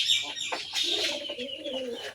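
Farm pigeons cooing close by in soft, rolling throaty phrases, mixed with a few sharper chirps from other birds, with no one speaking.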